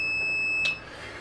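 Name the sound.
multimeter continuity beep while measuring a PS5 short circuit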